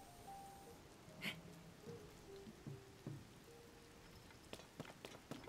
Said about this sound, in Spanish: ¿Se tiene que poner a llover? ¿En serio?